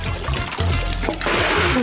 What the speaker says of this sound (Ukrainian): Залити цю пожежу може тільки відро води.